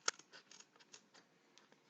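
Scissors cut a paper egg shape for an Easter decoration, giving a quiet series of small snips and crisp rustles, one sharper snip at the start and softer ones after.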